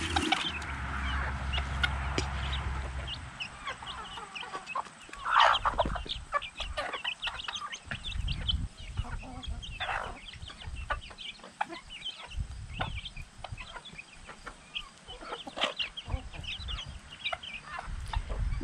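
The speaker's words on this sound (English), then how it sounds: "But this is the hens. There they are." Hens cluck and murmur continuously close by, with occasional louder squawks over a busy outdoor background.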